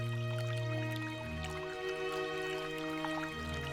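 Liquid drips and pours into a fish pond in a cartoon scene, soft splashes and trickles over a steady hum of sustained background tones, fairly quiet and without talk.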